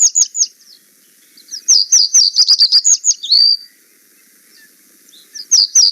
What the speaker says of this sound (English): that's reed bunting